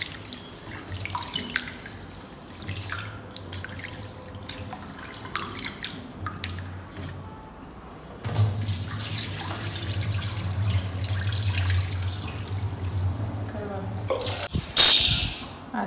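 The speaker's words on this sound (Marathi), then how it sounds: "ते इथं मी आता 2-3 टाईम धुवून घेते तांदूळ." Rice is rinsed in a kitchen sink under running tap water, with drips and splashing that swell into a steady flow midway and end in a brief burst of clatter, while someone speaks intermittently.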